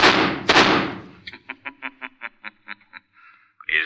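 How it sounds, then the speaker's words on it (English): Prerecorded gunshots in an old-time radio drama, played back through a concealed loudspeaker: two loud, sharp blasts in quick succession, then a rapid string of short, clipped bursts, with no talking. "they heard the shots. Did it sound like this?"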